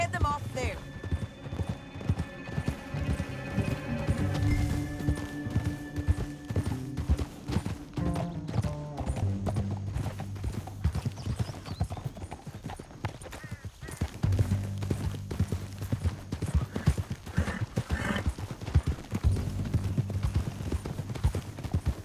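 Steady clip-clop of horse hooves at a trot in Red Dead Redemption 2, mixed with game music and voices talking over it throughout.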